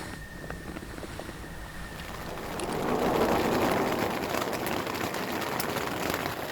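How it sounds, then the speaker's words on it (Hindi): Heavy rain pours down at night on a wild camping spot among rocks in Pakistan, a steady broadband hiss that swells louder partway through and continues without pause. "फुल अंधेरा बाहर और शदीद तेज़ बारिश स्टार्ट हो चुकी है"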